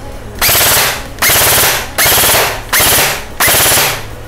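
A Lancer LT-25G Interceptor airsoft gun fires five loud, close automatic bursts, each a buzzing rattle of about half a second separated by short pauses.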